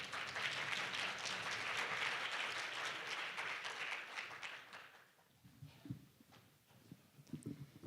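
Warm audience applause fills a hall at the 2024 Arctic Partnership Week opening ceremony as a Ministry of Oceans and Fisheries official is welcomed; sustained clapping for about five seconds, then it fades into scattered footsteps and faint room noise.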